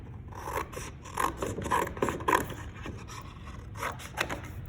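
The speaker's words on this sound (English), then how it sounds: "I'm going to take my scissors and I'm just going to cut." Repeated crunchy snips and rasping cuts of scissors through foam for a stamp, close up, in a loose irregular rhythm with brief pauses between strokes.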